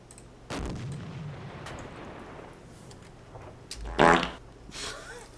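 Submarine deck gun firing in the video game Silent Hunter IV: a few separate heavy booms spaced a second or more apart, the loudest near the end, over a quiet low hum.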